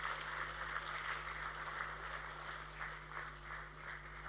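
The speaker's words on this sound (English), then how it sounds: "You can clap for yourself." An audience at a school's annual prize-giving ceremony applauds in a steady, even patter, heard faint and distant in a large hall.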